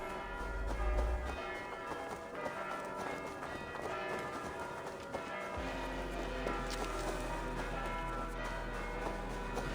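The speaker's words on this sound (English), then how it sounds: "I'll ring the bell!" Bell ringing in Assassin's Creed Valhalla, resonant tolls mixed with horse hooves clip-clopping and running footsteps, fairly faint overall.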